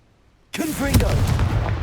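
Confringo fire spell cast in Hogwarts Legacy, silence broken by a sudden loud explosive burst that rolls on with crackling, rumbling blast noise for over a second.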